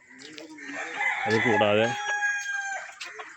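Gramalakshmi roosters, a laying-hen breed, crow on a farm with one long, ringing call that swells and then fades, while someone speaks briefly underneath.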